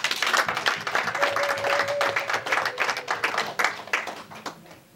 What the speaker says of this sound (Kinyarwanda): mubanze mukoma amashyi menshi cyane